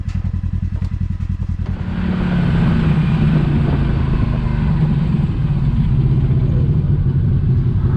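A 2021 Can-Am Maverick Sport XRC side-by-side on XM310 mud tires churns along a dusty trail, its engine droning loud and close with steady clatter, rising after a brief choppier idle at the start.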